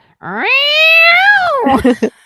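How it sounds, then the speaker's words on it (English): A recording of a cat's unhappy vocalization is played back: one long, loud, drawn-out yowl that climbs, holds and then drops, trailing into a couple of short broken cries. "I hope the therapy cat never makes that."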